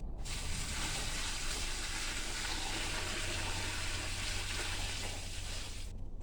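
Water pours steadily into a compost tea kettle over weeds, a close, even gushing splash that runs unbroken for about six seconds before stopping.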